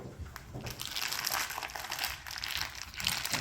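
Crinkling and tearing of plastic packaging as a packaged sirloin tip knuckle of beef is cut open, a steady close rustling crunch with no talking.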